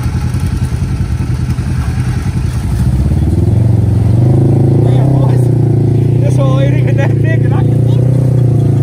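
A four-wheeler ATV engine cranks and catches, settling into a steady, loud idle and then revving higher and rougher near the microphone, with faint voices in the background.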